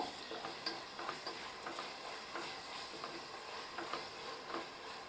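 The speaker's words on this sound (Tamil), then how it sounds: "இந்த மூணையும் நல்லா கலந்து விட்டுக்குவோம்" Masala of mint, coriander and yogurt being stirred in a pan with a spoon, soft repeated scraping strokes over a low sizzle, close and steady with no talk.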